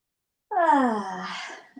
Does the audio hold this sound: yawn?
yes